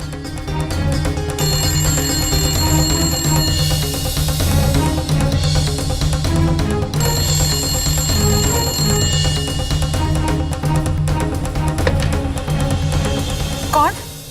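Inside a haveli, a telephone rings in repeated high, bright bursts that start and stop over a steady, dense background.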